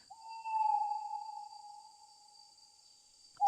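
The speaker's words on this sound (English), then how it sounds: "Aside from that one owl that I keep hearing." An owl hoots in one long, steady tone close to the listener, fading gradually over a few seconds against an otherwise quiet background, with a brief sound at the very end.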